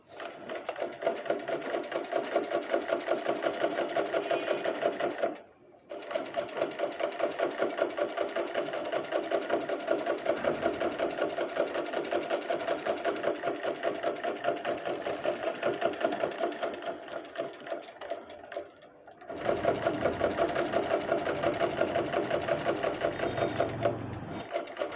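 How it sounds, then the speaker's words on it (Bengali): A sewing machine stitches the sleeves of a kameez, its needle chattering in a fast, even rhythm up close, stopping briefly twice before running again, with no talk. "এখন আমি প্রথমে হাতা সেলাই করে নেব।"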